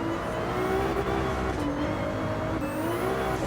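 A steady, droning GT3 race car engine in Gran Turismo 7 on PSVR2 holds a constant pitch with slight wavering, loud and continuous throughout, no voices.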